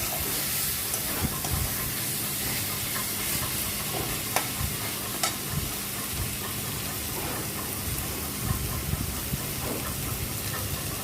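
Prawns and spices fry in oil in a pan with a steady, dense sizzle and occasional small pops and stirring clicks throughout.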